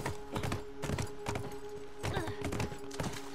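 Hooves clop in irregular quick bursts from a horse in The Last of Us Remastered, fairly close and moderately loud over a faint steady hum.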